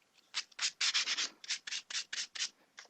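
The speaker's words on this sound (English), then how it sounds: "We're going to give them a little hit with the sandpaper here" Sandpaper rubs across 3mm plastic handle scales in about ten quick, close strokes with short pauses between them, with no talking.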